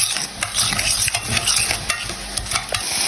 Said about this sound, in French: Il faut mélanger tout